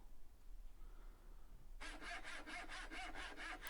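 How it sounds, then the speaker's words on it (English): A Parkside Japanese pull saw cutting pallet wood, starting after a quiet pause with about eight rhythmic rasping strokes back and forth, close and clear with no talk. "Here I'm cutting a piece of pallet wood, and again it cuts it well."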